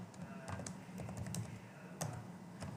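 Typing on a computer keyboard, a steady run of close, light key clicks with a few sharper taps, alone with no talk.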